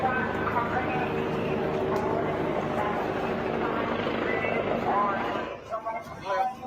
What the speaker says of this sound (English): they have police helicopters flying over the beaches and telling people to get off the beach